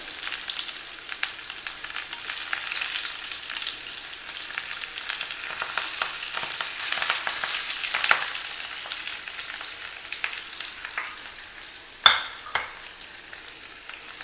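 Onion and curry leaves fry in hot oil in a pan on a medium-low flame, a continuous crackling sizzle with scattered sharp pops and a louder spatter burst toward the end.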